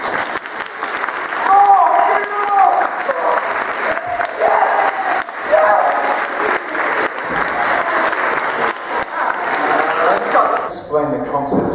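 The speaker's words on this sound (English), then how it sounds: "Big round of applause for me!" A school audience applauds and cheers steadily for nearly twelve seconds, loud and continuous, with voices mixed into the clapping before it fades out at the end.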